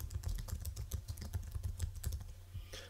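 Keys clatter on a computer keyboard as a title is typed into a PowerPoint box, a quick irregular run of close, crisp clicks over a low background hum, with no talking.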